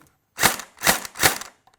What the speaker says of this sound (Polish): tu mamy ogień pojedynczy